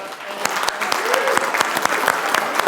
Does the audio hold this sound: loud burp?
no